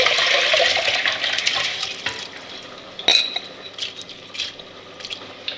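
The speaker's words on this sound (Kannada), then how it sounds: "ಈ ನೆನೆಸಿಟ್ಕೊಂಡಿರೋ ಅಕ್ಕಿನ ನೀರು ಸಮೇತ ಹಾಕ್ಕೊಳ್ತಾ ಇದ್ದೀನಿ ಒಂದು ಪಾತ್ರೆಗೆ" Soaked rice and its soaking water are poured into a cooking pot for a country-chicken biryani, a loud rushing splash at first that thins to scattered drips and light clinks of the pot, with no talking.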